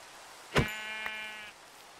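A sheep in the Minecraft video game gives a single clear, close bleat lasting about a second, with no rain audible.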